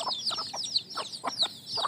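Young native chicks peck at broken rice in the morning, giving a rapid run of short, bright cheeping clucks, about eight in under two seconds, close and clear.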